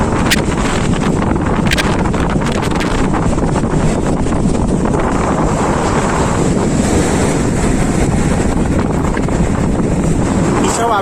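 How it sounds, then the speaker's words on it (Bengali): Surf rolling onto Mandarmani beach, a continuous loud wash of breaking waves mixed with strong wind rumble on the microphone, with faint distant voices. "সমুদ্র আসছে"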